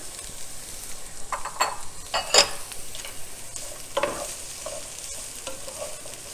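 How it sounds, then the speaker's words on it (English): Red peppers, carrots and broccoli are stirred in a hot pan, with soft scraping strokes over a gentle sizzle close by. "Give that a little stir."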